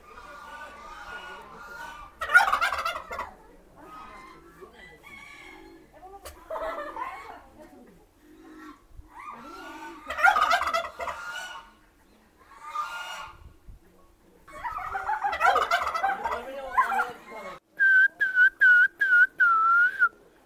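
Assorted birds call at Sidkeong Tulku bird park in Pelling, Sikkim, with loud whistled phrases in bursts separated by quiet gaps, then a run of rapid repeated whistle notes at the end.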